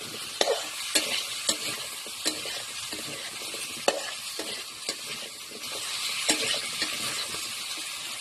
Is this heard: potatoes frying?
yes